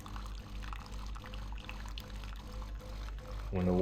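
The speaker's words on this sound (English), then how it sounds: "Pouring water." Water is poured close by for a few seconds as a low, steady gurgling stream, and it rises in pitch and volume near the end as the vessel fills.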